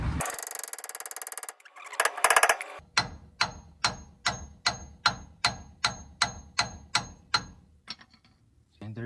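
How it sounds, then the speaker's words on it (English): A hammer repeatedly whacks the lower ball joint on a first-generation Toyota Tacoma, producing a steady run of about a dozen loud, close metallic strikes at an even rhythm, after a burst of harsher noise at the start. "we're gonna whack it first here on the lower ball joint with the hammer and see if it pops loose"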